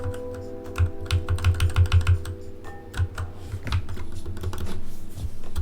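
Rapid computer keyboard typing during a speedrun stream, bursts of clustered keystrokes and scattered single clicks, close and fairly loud over a low continuous hum, with no talking.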